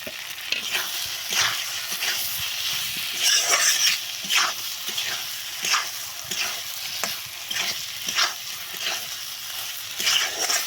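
Shrimp frying in a pan with pointed gourd, a steady sizzle broken by repeated sharp scraping stirs at an irregular rhythm, close and alone.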